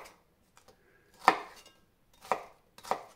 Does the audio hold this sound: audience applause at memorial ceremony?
no